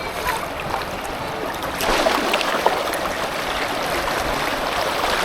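Strong, waist-deep floodwater rushes past in a steady, loud broadband roar, with slight swells in intensity and no voices.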